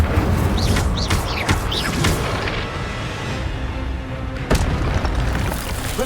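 Incendio fire spell blasts cast in Hogwarts Legacy video game combat, several sharp booming bursts with whooshing magical sweeps, loud and close, separated by short gaps.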